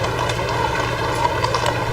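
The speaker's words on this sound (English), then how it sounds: "the sound of horses' hooves resounding in the respectful silence" Horses' hooves clop steadily on pavement during a procession along an avenue, beneath a dense, hushed crowd murmur, the rhythmic hoofbeats fairly close and moderately loud.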